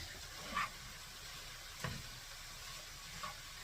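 Onion beef fried rice sizzles quietly in a hot pan, a faint steady hiss with a few brief soft clinks or stirs scattered through it.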